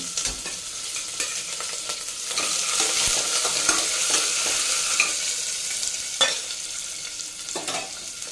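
Chopped onion hitting hot oil with cumin seeds and a bay leaf, a loud hissing sizzle that swells as the pieces are stirred, with close scraping spoon strokes and no voices.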